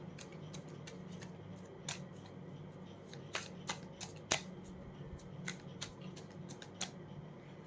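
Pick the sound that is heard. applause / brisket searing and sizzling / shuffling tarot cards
shuffling tarot cards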